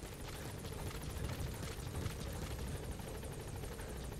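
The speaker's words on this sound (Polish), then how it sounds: "Gdzie jest mój helikopter?" A helicopter in a video game whirs with a steady, low rotor drone and a faint high whine, moderately distant and constant, heard alone without talk.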